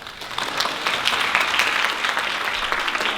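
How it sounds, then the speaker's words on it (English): A crowd at a Christmas event applauds steadily, a dense wash of many hands clapping at even volume throughout, with no speech over it. "Please give a clap for the Dessert Junkie."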